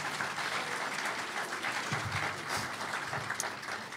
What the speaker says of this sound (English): give them a round of applause for making an effort